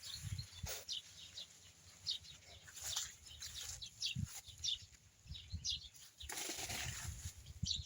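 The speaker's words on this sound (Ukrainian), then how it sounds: "Вон пташечка полетіла." A small bird bursts from its nest in an old grapevine in a Ukrainian dacha garden, giving a few quick wingbeat flutters. Scattered chirps sound nearby, and no one speaks.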